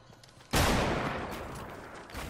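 Sniper rifle gunfire in Fortnite Battle Royale, one sudden loud close shot that cuts in sharply and rings out in a long decaying tail, with a second fainter burst just before the end.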